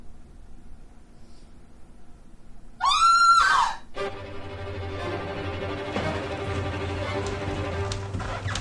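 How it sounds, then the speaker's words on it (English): A person screams once, a loud shrill wail lasting under a second, set against steady rain on surfaces with other movement sounds nearby. "Did you hear a scream?"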